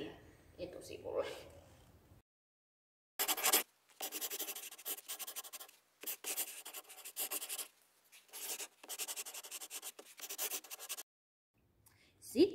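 A child writes their own name with a pen on the front page of a sticker passport, producing scratchy rubbing strokes in several bursts separated by pauses, with talk before and after.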